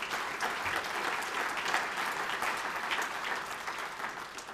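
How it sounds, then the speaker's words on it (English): Applause from an audience at a county government State of the County address: a dense, steady wash of many hands clapping at once, moderately distant and sustained without a break. "I think that deserves a round of applause"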